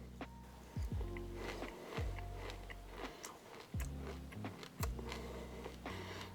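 Crispy, nutty toasted quinoa, kept overnight in the fridge, crunches as it is chewed, giving a few sharp close bites spread over quiet moments.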